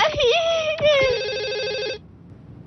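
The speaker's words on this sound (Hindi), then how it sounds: "हाँ, फोन आया है।" A telephone rings loudly with a warbling electronic tone in an animated cartoon scene, sounding as one long ring that cuts off abruptly, with a brief noise at the end.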